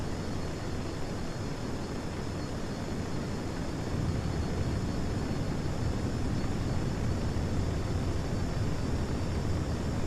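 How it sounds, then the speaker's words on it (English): A plane in Kerbal Space Program roars with a steady, dense engine and wind rush, loud and unbroken throughout, growing slightly louder partway through, with no talking. "I think this is one of the only planes I could pull this maneuver in."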